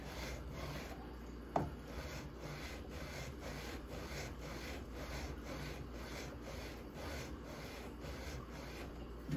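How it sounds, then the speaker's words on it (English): Sandpaper rubbing back and forth over the frets of a 2020 Gretsch Electromatic guitar during fret leveling, a steady rhythmic rasping of many even strokes, close and continuous with no talking. "Let the sandpaper do the work."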